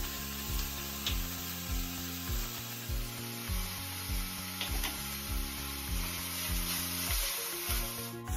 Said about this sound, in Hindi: जब तक प्याज और टमाटर थोड़ा और भुने